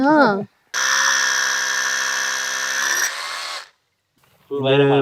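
A power drill bores into a red sandalwood log with a loud, steady high-pitched whine lasting about three seconds before stopping abruptly, framed by brief bursts of nearby speech before and after.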